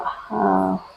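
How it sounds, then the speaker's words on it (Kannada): A single short bark or yelp from a dog nearby, lasting about half a second, with quiet background before and after. "ನಾಯಿ"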